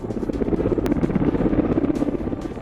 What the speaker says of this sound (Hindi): आकाश रे लढ़ुआ हेलिकॉप्टर पैंतरा